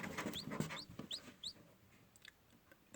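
Newly hatched chicks, one yellow and one black, give soft high peeping chirps amid quiet rustling and clucking from the little yellow Cochin hen close by.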